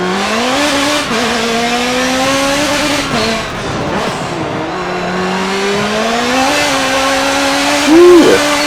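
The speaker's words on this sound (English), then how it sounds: "This car sounds awesome." A race car in Forza Motorsport 7 revs hard through the gears on a drying track, its loud engine note climbing and dropping with each shift, and a short tire squeal comes near the end.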